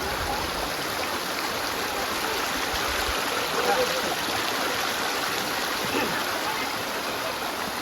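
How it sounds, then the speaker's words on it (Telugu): Steady, continuous rush of flowing stream water, broadband and unbroken throughout, with no distinct voices standing out. "ఇదంతా కూడా twenty four hours flowing water అనమాట"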